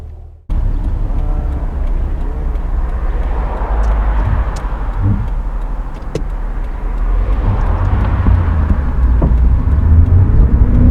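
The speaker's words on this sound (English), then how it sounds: "very smooth idle, so smooth you can't even feel it inside" A Nissan R34 with its engine idling, a steady low rumble held close and even throughout, with no talking over it.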